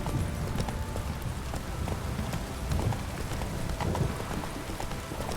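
Hooves of the horse Roach beat a rapid galloping clip-clop in The Witcher 3, steady and fairly close, under the patter of a rainstorm downpour with no talking.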